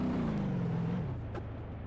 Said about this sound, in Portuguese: O barulho do carro é aquele típico barulho de quando é mod bugado, mano.